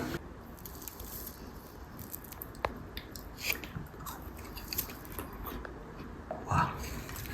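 Someone bites into and chews crunchy beer-battered fish and chips, with close crisp crunches and wet chewing over a noisy background.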